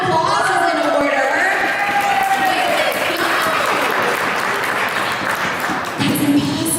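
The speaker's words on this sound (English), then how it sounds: "so I think round of applause is in order." A conference audience at a keto event breaks into sustained applause, with a crowd murmur and a few voices audible beneath the steady clapping, loud and continuous throughout.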